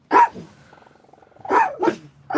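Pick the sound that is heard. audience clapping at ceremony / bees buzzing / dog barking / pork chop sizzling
dog barking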